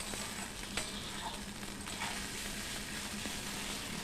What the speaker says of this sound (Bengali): ওপর নিচ করে ভালো করে এগুলোকে সমস্ত কিছুকে ফ্রাই করে নিচ্ছি আবারও